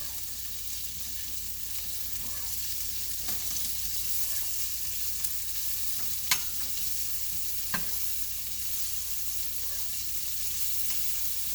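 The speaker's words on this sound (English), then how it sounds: "I'm going to add my dried potatoes here to my hot pan." Dried potatoes hitting a hot pan for a breakfast hash, with vegetables pushed to the side, sizzle in a steady broad hiss, marked by a couple of sharp pops and scrape ticks.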